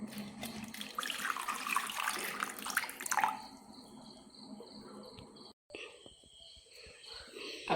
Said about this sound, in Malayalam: അപ്പോൾ നമുക്ക് കുറച്ച് വെള്ളത്തിലിട്ട് വെക്കാം.